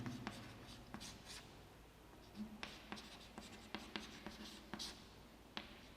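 A pen writes by hand during a maths lesson on trigonometry, producing faint scratching strokes and soft taps at an irregular pace, close and quiet.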